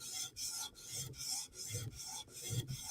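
A Chris Reeve Umnumzaan tanto knife bevel is polished with close, quiet rasping strokes that alternate direction in a steady back-and-forth rhythm, about seven passes with short gaps between them.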